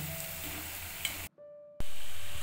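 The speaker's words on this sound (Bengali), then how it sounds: "দেখুন ভাজা এখনও হয়নি হালকা ব্রাউন আসছে কালারটা আরও একটু ভাজবো আমি" Rasbara lentil fritters sizzling steadily in hot oil, with a brief drop in sound partway through before the frying noise returns loudly.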